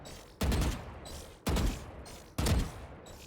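Three loud, sharp gunshots spaced about a second apart ring out from aim practice in the video game Valorant, each crack followed by a short decaying tail, with no talking over them.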